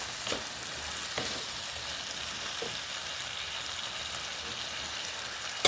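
String beans and baked beans sautéing in a pan make a soft, steady sizzle at low volume, with a few faint stirring clicks and no voices.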